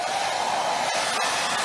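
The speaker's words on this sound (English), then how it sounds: "when you will use air blower to dry the coating" A hot air blower drying the coating on an SGZ zinc plate, giving a steady loud broadband rush of air with a constant hum, alone and unbroken.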